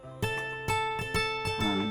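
Plucked notes from the Real Guitar 5.0 virtual instrument in FL Studio ring out in a steady repeating pattern, several tones stacked in harmony, each attack decaying before the next.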